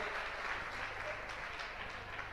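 Sustained applause from an audience welcoming a women's group at a religious discourse gathering, a steady, dense wash of many hands clapping throughout.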